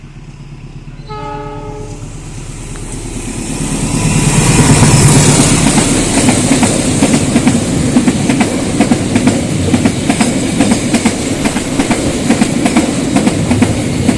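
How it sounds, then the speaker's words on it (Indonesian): A freight train passes straight through a railway station, opening with a loud horn blast, then a steady heavy roar of rolling wagons with rhythmic clickety-clack of wheels on the rail joints, close and loud. "kereta api barang melintas langsung"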